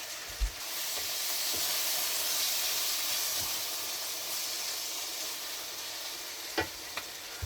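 Spaghetti sizzles loudly in a very hot pan while cooking a spaghetti Bolognese mince dish, a steady hiss that runs throughout with a few soft knocks and clatters scattered through it.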